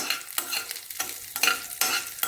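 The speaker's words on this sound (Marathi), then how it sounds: "थोड्या मिरच्या अशा परतायच्या" Chili pieces sizzling in hot oil in a pan for a guava fasting dish, stirred with a scraping spatula in three quick bursts over a steady close crackle, with no voices.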